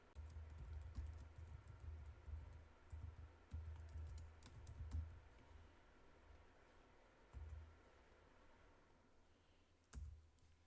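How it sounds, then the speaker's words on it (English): Quiet typing on a computer keyboard while entering text into a text box in video editing software, a soft run of keystrokes with some louder taps, faint and distant over low hum. "I am going to create this text box, and then I can type in anything that I want"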